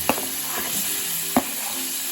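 Paneer cubes fry in melted butter in a wok, giving a steady close sizzle broken by two sharp knocks of stirring against the pan.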